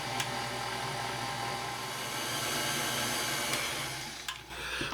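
Electric mixer blending flour into maple cake batter, a steady close whirring motor hum running continuously and dipping briefly near the end.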